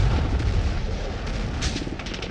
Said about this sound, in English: The explosions sounding out around him, the bullets flying past his head